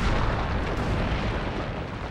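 A huge blast levels an entire hill at the ITER reactor construction site in the south of France, heard as a sustained, loud, broadband roaring rumble that fills the whole span without any talk.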